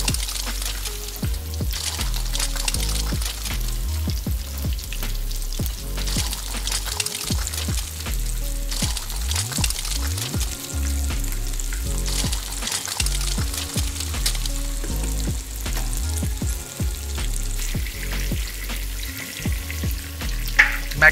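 Boneless fish pieces fry in hot refined oil over a slow-medium flame, a loud, close bubbling sizzle that runs continuously, with occasional spatter, pouring and stirring noises.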